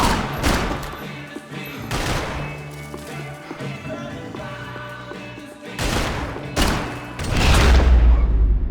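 Gunfire in the video game Max Payne 3 cracks out as a series of loud, close shots and bursts, spaced irregularly across several seconds, ending in a heavier booming thud.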